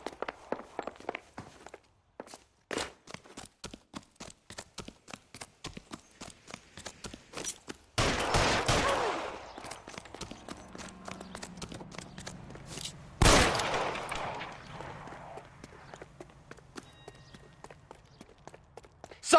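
Gunfire in the LA Noire video game: a sharp, wide-band shot cracks out partway through, followed by a longer burst later, amid steady rhythmic clicking and tapping, with a second loud blast near the end.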